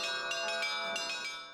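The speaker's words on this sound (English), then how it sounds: "Traditional bell ringing is not really about melody, it's about rhythm" Church bells ringing from atop the Pokrovsky Cathedral bell tower in central Moscow, loud and close, with rhythmic overlapping strikes and a sustained ringing wash throughout.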